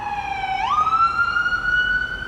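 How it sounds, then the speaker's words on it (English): An emergency vehicle siren wails steadily close by, its tone gliding sharply upward partway through and then holding a sustained high pitch, heard alone without talk. "Oh. Sirens."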